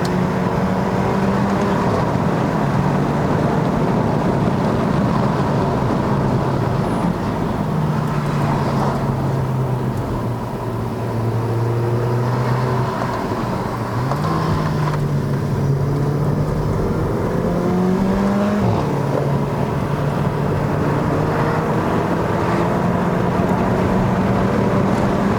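A 2015 Mercedes-Benz A45 AMG engine pulls hard uphill on a mountain road in Malaysia, its loud, steady drone rising in pitch through the gears with brief dips at each shift, continuous throughout with no talk.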